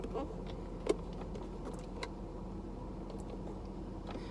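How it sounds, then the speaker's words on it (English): A steady, airy rush of air blowing from a car vent right beside the recording device, constant throughout, with a faint click near the start. "I just realized that my speaker's right next to the air vent."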